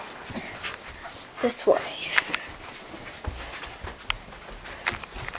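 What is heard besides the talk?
dog whimpering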